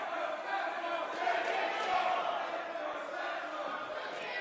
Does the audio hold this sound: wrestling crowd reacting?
yes